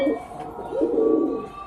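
Domestic pigeons cooing nearby, a few drawn-out throaty calls rising and falling over a quiet background.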